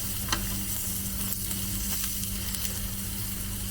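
Fat sizzling on a hot mookata grill at a Thai barbecue buffet, a steady close crackle and hiss running throughout without any talking.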